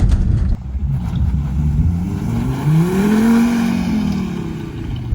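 A Volvo V70R with all-wheel drive accelerates off-road with traction control off, its engine note rising in a loud sweeping rev that climbs and falls over a steady rumble and tire noise.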